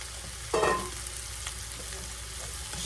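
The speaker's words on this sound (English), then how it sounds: "So let's go ahead and toss this chopped shrimp in there." Chopped shrimp hitting a hot frying pan with onions, peppers and olive oil, a sudden loud sizzle that settles into a steady broad hiss, heard close with no talking.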